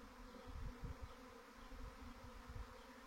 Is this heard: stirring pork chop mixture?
no